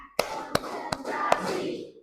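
Four hand claps spaced evenly, each a crisp single slap ringing in a reverberant room, with a spoken count between them.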